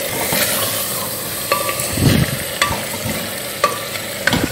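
Fried chicken tossed with spices in a pressure cooker, a continuous sizzle with a few louder scrapes and clanks of the spoon against the pot, close and without talk.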